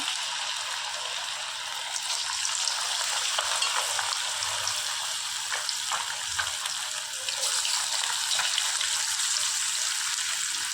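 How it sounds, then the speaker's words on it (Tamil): Chicken lollipops fry in hot oil with a constant, dense, close sizzle and crackle, steady throughout with slight stirring movement underneath and no voices. "இப்போ எண்ணெய் சூடானதை நம்ம லாலிபப்லாம் எடுத்து எண்ணெயில் சேர்த்துக்கலாம்"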